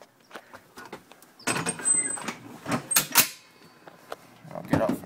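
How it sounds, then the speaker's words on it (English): The door of a 1998 Ford E-Series Super Duty school bus with a 7.3 diesel is pulled shut. It makes a clattering run of mechanical knocks and a solid thud close by, with voices talking alongside. "And shut the door."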